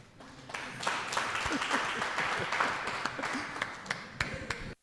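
A workshop audience on the informal economy breaks into applause, a fairly close, lively patter of many hands that stops abruptly, with a few stray voices underneath.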